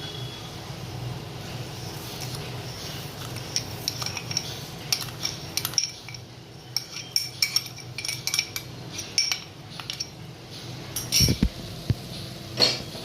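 A metal spoon scrapes and clinks against a pan while sugar is stirred into roasted semolina for sheera, a steady run of small close taps and rattles with no talking.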